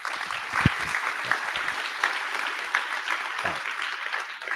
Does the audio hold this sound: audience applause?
yes